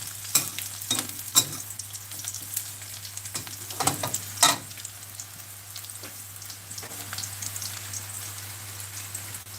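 Chili paste with pork stir-fried in a pan, a steady crackling sizzle with scattered sharp scrapes and clicks of the spatula against the pan, close up and without any voices.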